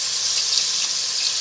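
Onions browning in hot oil in a pot for chicken korma, a steady, bright sizzling hiss that stays even and close with no breaks or voices.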